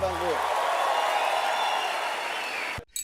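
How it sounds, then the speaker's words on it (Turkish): Studio audience applause on a television talk show fills the stretch as a dense, steady wash of clapping, cut off abruptly near the end; a voice briefly sounds at the start. "Alkışlarla Merve giriyor"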